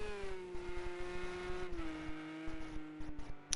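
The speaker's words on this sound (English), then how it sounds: "the engine doesn't sound very healthy" A race car engine in a PS4 racing video game runs rough and uneven, its loud sustained tone sagging and recovering over rapid rhythmic pulsing, as if misfiring, with no voices.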